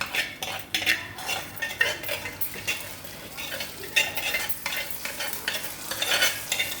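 A mustard-seed tempering is poured into a cucumber dal. Soft sizzling runs under repeated clinks and scrapes of a spoon stirring in a metal pot.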